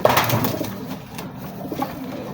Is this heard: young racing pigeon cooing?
yes